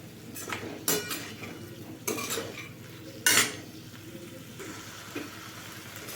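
A spoon scrapes and clinks around a pan while half a spoon of garam masala is mixed into bitter gourd curry sweetened with jaggery, with several distinct stirring bursts over a low background hiss.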